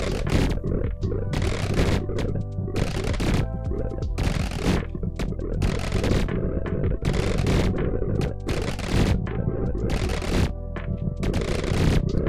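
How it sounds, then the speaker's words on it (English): Explosions and rapid gunfire in the incremental video game Nodebuster, a dense, loud barrage of blasts and bursts with no break. "Ooh, that was a big explosion."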